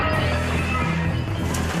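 A giant spiky mace crashes into a run of glass windows, one loud sustained smash with shattering glass ringing on and a sharp crack near the end.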